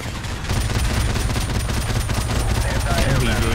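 Sustained heavy machine gun fire in Call of Duty: Modern Warfare (2007 remaster), a dense, continuous rattling burst running the whole stretch at close range, loud and steady.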